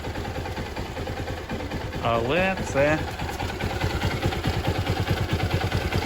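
A Honda XR150L motorcycle engine with a reworked carburettor idles steadily up close, its even low putter running throughout while someone talks briefly over it.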